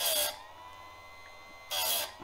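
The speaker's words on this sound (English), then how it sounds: "Okay, so we'll start sharpening." Clarke ECSS2 electric chainsaw sharpener grinding a chain tooth, two brief harsh grinding bursts separated by a quieter motor hum, close and loud.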